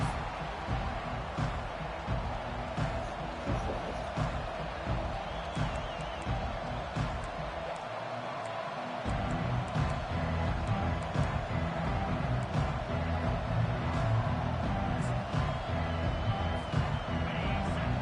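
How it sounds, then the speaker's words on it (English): A large stadium crowd roars continuously, a dense wash of cheering and noise that swells a bit louder midway and stays steady. "Listen to the crowd energy here in the early going."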